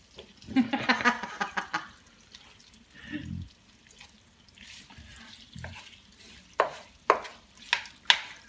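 Tap water runs steadily while a few knocks and clatters sound nearby, with a brief low murmur partway through.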